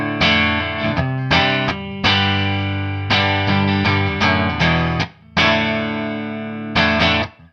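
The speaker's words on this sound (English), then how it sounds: "this just gives you the feel, just a little kiss, a little touch of reverb" Electric guitar played through a Line 6 HX One with a subtle dynamic ambience reverb, ringing chords and single notes sounding in phrases with a light room-like tail, loud and close with no talk.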